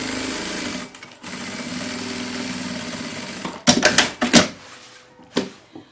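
A sewing machine stitches a fabric tote bag in a loud, continuous mechanical buzz. It stops, then gives several short stop-start bursts.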